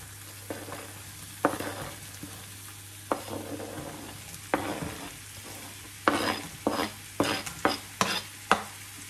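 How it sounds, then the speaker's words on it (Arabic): Thinly sliced red and green bell peppers sautéing with onion in olive oil: a soft continuous sizzle broken by repeated close scraping strokes of a utensil stirring the pan, growing busier toward the end. "وغادي نشحرهم حتى هما مع البصله"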